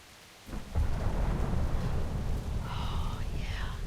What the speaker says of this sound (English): Oh, just in time for thunder.